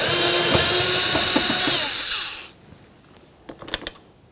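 A power screwdriver whirs steadily while backing out a Phillips head screw from a 2003–2007 Honda Accord front door panel, then cuts off, leaving a few small clicks and taps.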